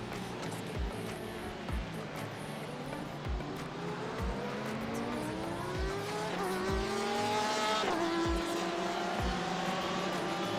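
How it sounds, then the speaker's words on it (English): GT race cars in the iRacing game at Monza, engines screaming as they rise and fall through gear shifts, with faint tire squeal and cars sweeping past in a steady stream. "Hearing those GT cars on the track screaming by like that right there."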